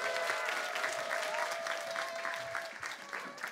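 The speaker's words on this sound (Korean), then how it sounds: "하나님께 영광의 박수 한번 올려드릴까요?" Congregation applauding to give glory to God at a year-end church gathering of evangelism disciples, steady dense clapping sustained throughout with a faint held musical tone beneath.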